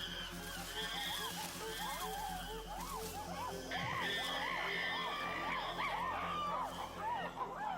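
Wild chimpanzees scream during an attack on rivals, a dense, continuous chorus of overlapping shrieks and hoots at a distance, steady and loud throughout.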